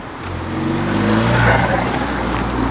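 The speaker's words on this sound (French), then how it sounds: "le ton du moteur est un petit peu plus grave" A Ford Focus ST fitted with a Green intake filter revs up, its low engine note climbing and holding as a steady, loud, close drone with layered harmonics.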